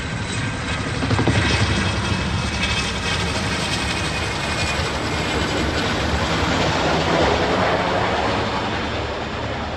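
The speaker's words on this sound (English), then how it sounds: "a Seattle man recorded a military helicopter flying through his neighborhood" A military helicopter passes over a Seattle neighborhood, its rotor and engine noise a steady, loud broadband roar that swells slightly and holds for the full length, with no voices.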